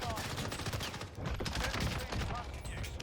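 LAPA SMG fired from the hip in a video game, rapid bursts of loud gunfire crackling continuously across the whole stretch, close and dense.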